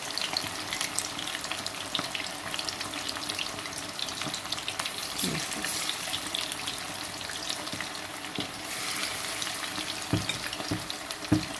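Spicy chicken wings cook in a pan, giving a steady, dense sizzle with occasional stirring clicks and scrapes throughout, and no talking.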